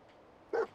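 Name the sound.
dog barking in the video game Fallout 4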